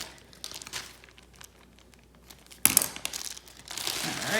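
Plastic trash bag crinkling as it is taped down into a gown sleeve, soft rustles at first, then a louder burst of crackling and crumpling near, in short bursts with no talk.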